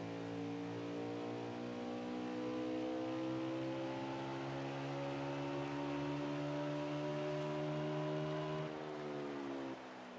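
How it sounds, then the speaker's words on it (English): A race car at WWT Raceway holds a steady high engine drone whose pitch climbs slowly, then drops sharply near the end as it brakes late into a corner. The roar is loud and continuous over background noise, with no talk. "Interesting to hear just how late the 13 car brakes"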